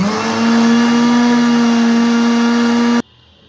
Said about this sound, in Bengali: ব্লেন্ডারে দিলে ভালো হবে, ভালো করে মিশে যাবে একটা চাপেই।